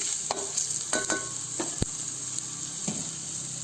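Cumin seeds and black pepper with garlic sizzling in hot oil while being stirred for a Telugu tomato rasam and bonda dish, a steady close frying hiss broken by scattered spoon clicks and scrapes.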